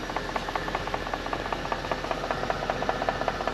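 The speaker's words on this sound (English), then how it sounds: "it's kind of like a knocking noise" A 4.2 V8 Audi S5 exhaust idling with a fault, giving a steady, fast rhythmic knocking tick over a low engine hum, close and moderately loud, with no talk.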